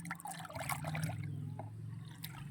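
Rice water poured out for watering plants, a soft steady trickle and splash of liquid running continuously and close, with no voices.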